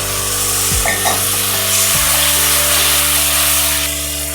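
Spiced masala of ground coriander and cumin, loosened with a splash of water, sizzles and hisses steadily in a pan for chicken liver and kidney curry, with a few scraping stirs near the start.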